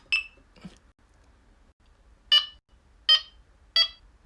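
Delkim Txi-D carp fishing bite alarm giving a few short electronic tones: a couple of faint blips, then three sharp, loud bursts spaced under a second apart, each with a bright warbling buzz, over quiet background.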